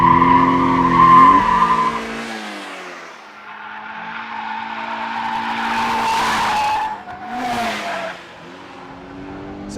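A 2013 Mazda MX-5 Miata Club with a six-speed manual driven hard around a figure-eight track, loud engine revving and shifting with tires squealing and skidding through the turns, steady and close throughout.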